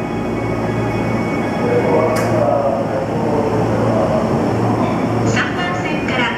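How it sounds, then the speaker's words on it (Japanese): A local train pulls out of platform 3 at Nishi-Funabashi station with a steady low rumble and hum, fairly loud and close, while a voice sounds faintly over it. "3番線から電車が発車いたします。"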